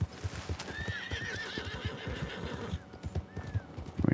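A horse in the video game Red Dead Online trots with a quick, even clip-clop of hooves and lets out a long wavering whinny, followed by a shorter neigh near the end, all close and clear.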